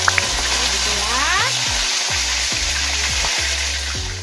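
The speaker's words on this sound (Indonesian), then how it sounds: "ayamnya itu digoreng hanya setengah matang seperti ini ya" Chicken pieces fry in hot oil until half cooked for opor ayam, a loud continuous crackling sizzle close by, with a few brief stirring clatters over it.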